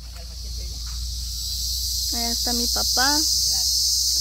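Cicadas drone loudly and continuously in trees on a rural plot where branches are being cut, a dense high-pitched buzz steady throughout, with a brief voice speaking and a short bird call partway through.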